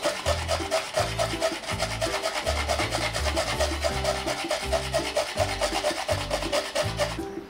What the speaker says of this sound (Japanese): この金のこはですね100均で売ってるものなんですけれども